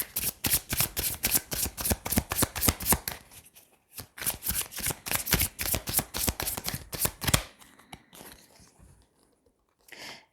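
Tarot cards being shuffled and laid out, a quick run of crisp riffling snaps, a short pause, then more rapid shuffling before softer scattered handling.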